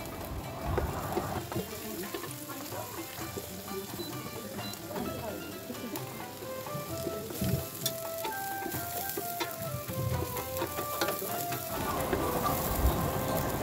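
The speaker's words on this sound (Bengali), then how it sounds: "আমি পেঁয়াজটা দিয়ে পেঁয়াজটা একটু ভেজে নিচ্ছি।" Sliced onion and a few torn dried chillies fry in a pan with a steady, dense crackling sizzle that keeps going throughout and swells louder near the end, while a voice speaks over it.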